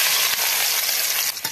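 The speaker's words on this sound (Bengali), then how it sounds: "তেল গরম হয়েছে, এখন মাছটি দিয়ে দিমু।" Shrimp frying in hot oil in a pan for a Barisal-style mustard prawn bhuna, a steady loud sizzle and crackle with a brief dip near the end.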